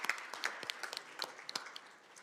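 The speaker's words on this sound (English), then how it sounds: "Was acknowledged him with a big round of applause right now for his birthday." Scattered hand claps from a small group at a county commission meeting, honoring a commissioner's birthday, sounding sparse and fairly faint with uneven, broken rhythm.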